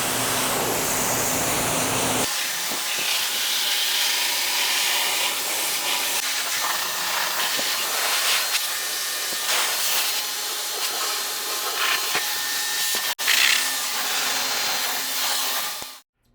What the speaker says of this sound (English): I'm gonna rinse off this vehicle and then move on to the next process